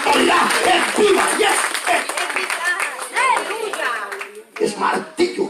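Applause from a church congregation during a sermon, dense clapping that swells and thins over several seconds, with voices and shouts mixed in.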